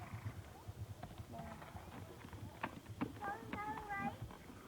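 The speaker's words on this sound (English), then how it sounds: "My white horse." A white horse's hooves clip-clopping on the ground in an irregular walking rhythm, moderately near and quiet, with people talking over them.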